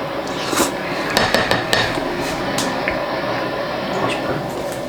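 Freshly cooked pasta stirred in a crockpot with a utensil: repeated clattering knocks and scrapes against the pot, with soft, wet squelching throughout.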